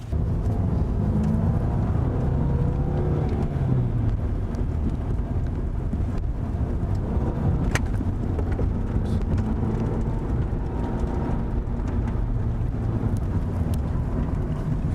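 A VW Golf with a petrol engine drives along, its low engine and road rumble steady and loud throughout, mixed with wind buffeting.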